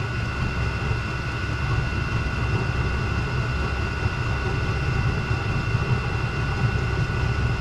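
A diesel heater fitted with a custom burn head runs with its air supply shut off, giving a steady, close, low rumbling roar with a constant hum and no pauses or voices.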